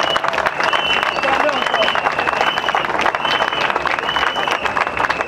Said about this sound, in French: On va se lever et acclamer ce grand monsieur qui est Pascal Afin Guesson